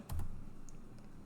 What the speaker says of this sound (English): I can just type in my name